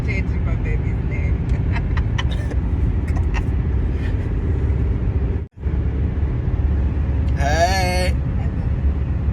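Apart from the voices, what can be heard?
car driving on a highway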